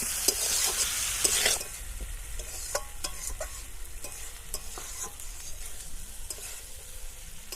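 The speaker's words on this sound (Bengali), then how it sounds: "ওলটি দেওয়ার পরও আমি দু তিন মিনিট একটু মশলার সঙ্গে ভালোভাবে কষিয়ে নেব" Elephant foot yam pieces stir-fried with spices in a pan for a Bengali ol masala: a loud sizzling burst at first, then steady frying with repeated scraping stirs and small crackles up close.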